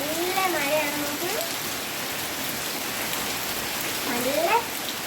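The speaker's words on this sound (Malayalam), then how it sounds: "ഇന്ന് ഇവിടെ നല്ല അടിപൊളി മഴയാണ്" Heavy rain pours down steadily in a dense, even hiss that fills the whole stretch, with a voice briefly heard near the start and again near the end.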